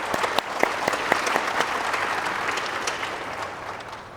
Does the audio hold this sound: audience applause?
yes